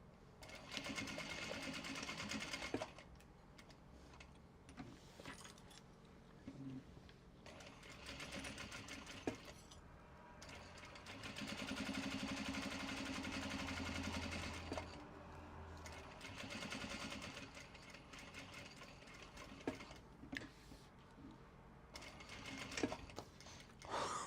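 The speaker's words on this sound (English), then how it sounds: "that fabric did not like being sewn" Sewing machine stitching fabric for mini traveller slings, a close, busy run of mechanical needle chatter in bursts with brief pauses and a faint voice in places.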